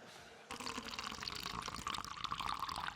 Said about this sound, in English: Let's see what this one was, the pouring, I believe.